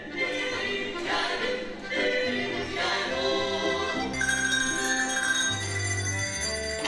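Bells ring through a bright, lively Tyrolean folk performance, their sustained metallic tones layered over accompanying instruments and filling the whole stretch at a steady, fairly loud level with no talk.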